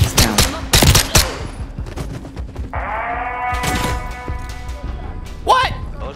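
Rapid bursts of automatic gunfire and shots crack in a Call of Duty Modern Warfare 3 campaign mission, loud and close, with a tonal hum between the bursts and speech around them.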